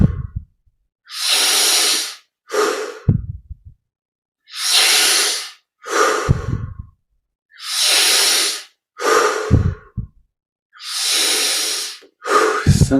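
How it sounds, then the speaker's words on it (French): Deep, forceful breaths during a breathing exercise, close up: long hissing inhales and shorter exhales in a steady, repeating rhythm separated by brief silences. "On augmente un petit peu l'amplitude des respirations."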